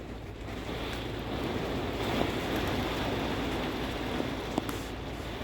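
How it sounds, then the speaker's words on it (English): Heavy hurricane rain pounds an RV in a steady, dense roar with gusty wind noise, sustained and loud throughout with a couple of sharper knocks. "the rain is just like crazy rain"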